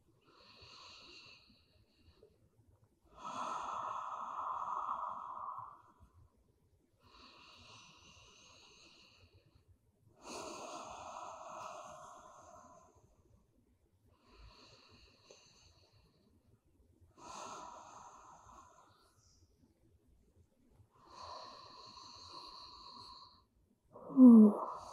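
Slow, deep breaths during a relaxing yoga session, several long inhale-exhale cycles spaced by quiet pauses, soft and close, with one louder breath near the end and no talking.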